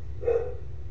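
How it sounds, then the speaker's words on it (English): A dog gives a single short bark, faint and somewhat distant over a low background hum. "Why was the dog barking in that take?"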